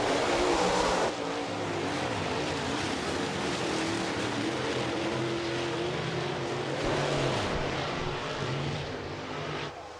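Late model race cars at Rapid Speedway roar steadily through a dirt-track race, a dense continuous engine drone with a louder burst at the start, heard from the stands without talk.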